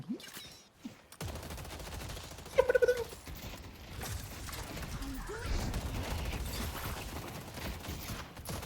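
Gunfire and combat effects from the Deadlock video game during a tournament match run steadily under game noise, with a short burst of sharper shots partway through.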